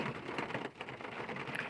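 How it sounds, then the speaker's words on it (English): Steady rain falls outdoors as a soft, continuous broadband hiss for the whole moment, fairly quiet and unbroken, with no voices over it. "it's kind of raining a little harder than it was"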